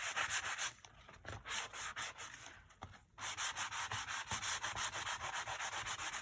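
A journal surface being sanded by hand, with steady rhythmic rubbing strokes up close that pause briefly midway and then resume at an even pace.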